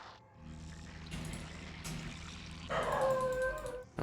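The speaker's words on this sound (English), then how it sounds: "Oh, my dog's barking." A pet dog barking and whining indoors, with short yips and howl-like cries over a quiet room tone that grow louder toward the end.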